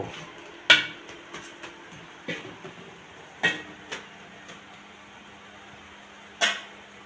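Scattered light clinks and taps of pots and utensils ring out in a home kitchen while shrimp with Malabar spinach is cooked, a handful of sharp, moderately close knocks separated by quiet stretches.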